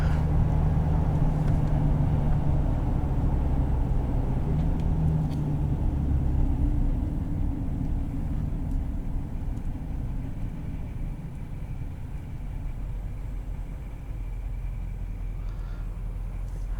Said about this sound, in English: even with diesels that are notoriously noisy, it's not bad